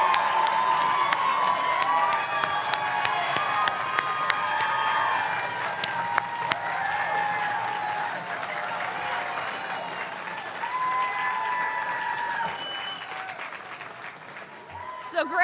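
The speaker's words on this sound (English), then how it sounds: "Students, could you applaud the staff and faculty and employees of CSM?" Graduates at a college spring commencement applaud and cheer their staff and faculty, a sustained roar of clapping with shouts and whoops from a large crowd that fades only at the very end.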